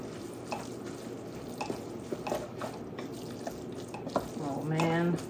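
A spoon stirs a saucy sloppy joe mixture of meat and a little added water in a pan, soft wet scrapes and clicks over a faint simmer, with a brief voice near the end.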